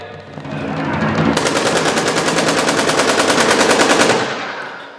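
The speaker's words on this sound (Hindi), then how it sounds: "भारत पाकिस्तान में युद्ध, दोनों ओर से जोरदार फायरिंग।" Heavy machine-gun sound effect for an India–Pakistan battle scene in a stage skit: one loud, rapid, continuous burst of evenly spaced shots lasting about three seconds, alone and up close.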